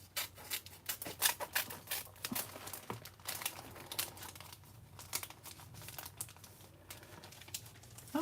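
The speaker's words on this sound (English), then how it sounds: "I'm gonna cut this off with scissors at the top." Scissors cutting through crinkly foil art packaging, with a quick series of close snips and rustles under a low steady hum.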